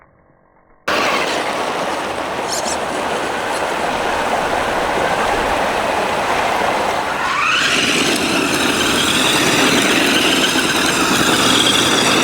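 A Capo Ace 1 4x4 RC rock buggy, a 1/10 scale truck, drives in high gear with a steady electric motor whine and rolling noise. The whine rises to a higher pitch partway through.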